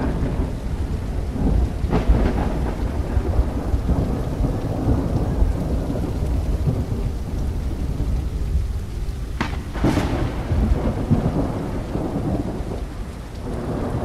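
A heavy thunderstorm in the horror game Horror Tales: The Beggar: constant loud rainfall with low rolling thunder, broken by a couple of sharp cracks midway, with no voices.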